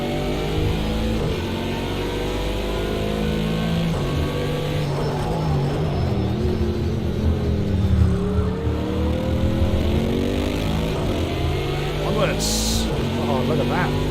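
A car engine in a racing video game drones loudly and steadily as it accelerates, with the pitch rising and falling through gear changes. Someone talks over it the whole time.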